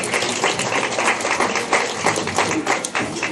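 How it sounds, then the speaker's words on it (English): An audience at a 4-H/FFA swine show claps for a blue-ribbon hog, a brief, fairly soft patter of scattered handclaps in a show barn. "Go ahead and give him a round of applause"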